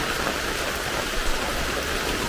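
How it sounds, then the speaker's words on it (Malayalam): Light but steady rain falls continuously near a village pond, an even hiss of drops on surfaces with no voices and no pauses. "ഇന്നിപ്പോൾ ചെറിയ മഴയാണ്, പക്ഷേ നിന്ന് പെയ്യുന്നുണ്ട്"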